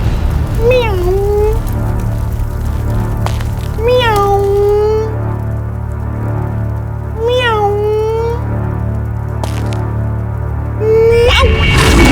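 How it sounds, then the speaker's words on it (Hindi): A cat meows four times at spaced intervals, each cry rising then falling, over a steady low hum with faint voices. "प्यारी सी बिल्ली है, बिल्ली।"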